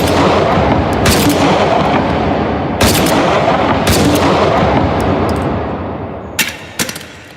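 Gunfire from the VR shooting game Hot Dogs, Horseshoes, and Hand Grenades during a combat wave: loud, dense, overlapping shots with booming reverberation, sharper isolated cracks near the end, and no talking.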